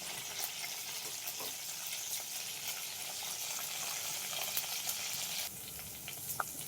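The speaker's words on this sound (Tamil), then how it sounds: "இந்த எண்ணெயில் நல்லா இது ஃப்ரை ஆயிடுச்சு" Okra pieces frying in oil, a steady close hiss and crackle of sizzling that runs evenly throughout, with a slight drop in loudness near the end and a faint stir.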